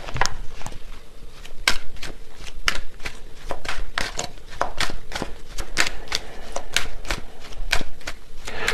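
Tarot cards shuffled by hand before a timing card is drawn, giving a steady run of crisp riffling slaps and snaps, close and fairly loud, with no talking.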